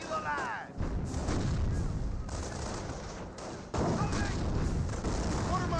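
Mortar and gunfire from a Company of Heroes 1 battle, a dense continuous rumble of distant booms and crackling shots with a heavier burst near the end, while a commentator talks over it.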